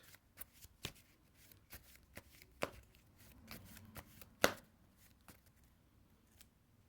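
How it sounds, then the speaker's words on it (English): Sparse riffling and snapping of a Dark Magician Yu-Gi-Oh deck being shuffled, quiet and close, with one sharp loud snap midway. "shuffle the deck"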